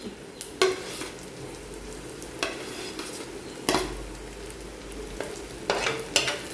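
Garlic frying with softened onions in a pan, a steady close sizzle broken by several sharp bursts of stirring and spatula scrapes, no voices.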